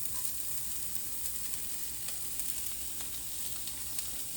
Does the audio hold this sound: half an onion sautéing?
yes